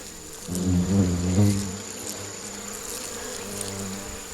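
Loud, close buzzing of Asian giant hornets with a droning hum that swells then settles into a steadier background whine.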